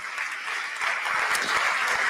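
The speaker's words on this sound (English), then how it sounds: "I wish to thank our panelists with a round of applause." Audience applause for the panelists at a financial summit session, a short, continuous patch of many hands clapping in a hall, steady and moderately loud throughout.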